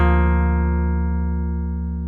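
A guitar picked with two parts from the right hand, the index finger sounding a bass note while the thumb plays chords above, heard as one rich, sustained strummed chord ringing out and slowly decaying.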